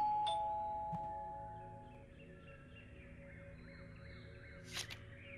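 A faint doorbell rings once near the start, then again as a brief chime near the end, distant and quiet against soft room ambience with a few small high chirps.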